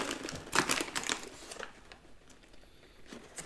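A bag of Magic Spoon cinnamon toast protein cereal crinkles and rustles as scissors cut it open, a short burst of close crackling that fades into quieter handling.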